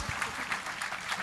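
Applause from an audience at a felicitation of doctors at a teen science centre in Hyderabad: a brief, moderate burst of many hands clapping, fairly distant and even throughout.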